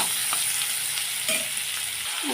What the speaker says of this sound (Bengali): পেঁয়াজ কুচানোগুলো দিয়ে দিলাম পেঁয়াজটা সুন্দর লাল লাল করে ভেজে নেব